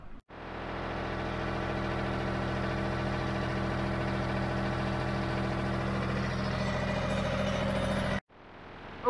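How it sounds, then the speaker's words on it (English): A John Deere tractor drives a Hypro sprayer pump, a steady droning engine hum running evenly for about eight seconds before cutting off abruptly, with no voices. "Okay, so I got the sprayer going."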